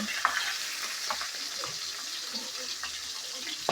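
Pabda fish frying in a pan, a steady close sizzle with faint scattered clinks from turning the pieces, and no one talking.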